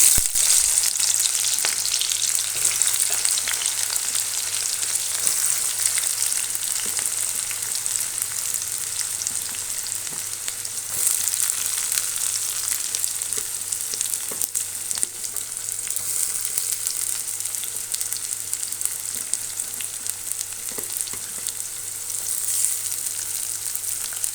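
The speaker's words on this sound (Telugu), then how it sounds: "నూనె వేడయ్యింది పైలు వేసుకుందాం" Hot oil sizzles steadily in a pan for a Telugu curry, a close, continuous crackle with faint scattered pops and no talk.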